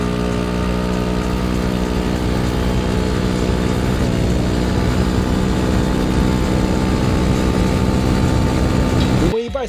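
The engine of a G7 sport touring scooter is held at hard, full throttle for over ten seconds during break-in, producing a loud, sustained, steady drone that cuts off abruptly at the end.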